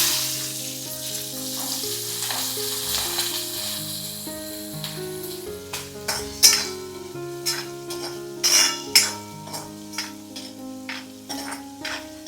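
Pigeon pea pods hit hot oil tempered with cumin and turmeric and sizzle steadily, with scraping stirs and sharp crackling pops that grow busier midway, all under soft background music.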